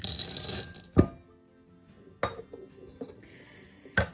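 Semi-sweet chocolate chips clatter into a bowl in three quick bursts with quiet gaps between, a bright clinking rattle close by.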